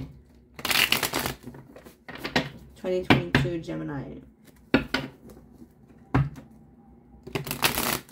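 Quick bursts of tarot cards being shuffled and riffled, several short rustling flurries close by, with a person talking between them.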